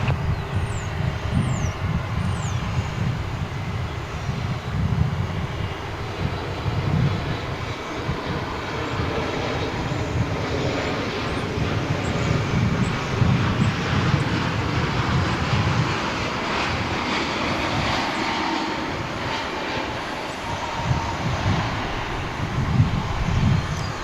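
An American Airlines jet on final approach to land at DFW airport, passing over a highway, its engine roar steady and moderately loud throughout, with broad rumble and wind noise and no talk.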